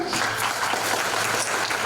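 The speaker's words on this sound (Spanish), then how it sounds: "a la bienvenida a Juan José con un aplauso" A burst of audience applause, dense and steady clapping from a crowd filling the whole stretch, fairly loud with no pauses.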